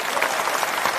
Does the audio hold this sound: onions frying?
no